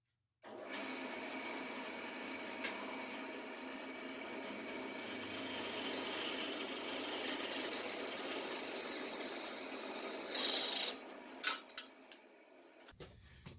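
A drill press bores into metal on a workshop bench, a steady whirring grind that runs for several seconds, swells louder near the end with a brief harsh burst, then winds down into short clunks.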